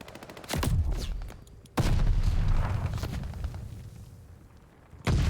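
Heavy gunfire in a competitive video game match, with bursts of shots and booming blasts that fade away and then return loudly, continuing with no voices.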